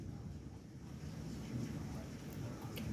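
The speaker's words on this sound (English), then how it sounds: "Look at the wind." Wind gusts during a thunderstorm roar across the microphone near open water, a continuous rushing bluster that swells slightly toward the end, with faint voices underneath.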